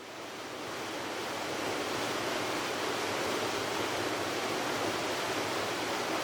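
Dokari Chanchra waterfall in the Kalahandi forest roars as a steady, dense rush of falling water, swelling briefly at the start and then holding constant, with no voices.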